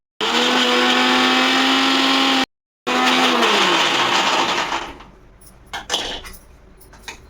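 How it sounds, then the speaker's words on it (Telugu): A mixer grinder whirs loudly and strains while grinding mint chutney without water, a steady high motor drone that cuts out briefly, restarts, then winds down into a few faint knocks. "మనం వాటర్ వేయలేదు కదా మధు, చూడు తిరగనంటుంది మిక్సీ"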